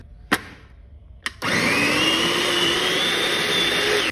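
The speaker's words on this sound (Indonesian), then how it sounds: "Ini akan aku blender sampai benar-benar halus ya teman-teman." A kitchen blender grinding red spice paste with a little water for Madura-style satay: two sharp clicks, then the motor kicks in to a loud, steady high-pitched whir that holds to the end.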